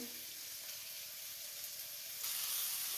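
Chopped onion frying in a pan for a chicken samosa filling, a steady quiet hiss of oil that runs unbroken and swells a little louder near the end, with no voices.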